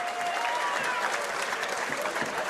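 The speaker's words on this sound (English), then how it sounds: "how about a round of applause for both of these heavyweight athletes" An audience applauds two heavyweight boxers after a six-round fight in Windham, New Hampshire, with steady dense clapping and some crowd murmur mixed in, moderately loud and unbroken.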